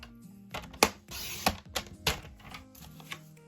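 Paper being cut for a scrapbooking box, a series of quick crisp clicks and snaps from the trimmer blade, close and fairly quiet.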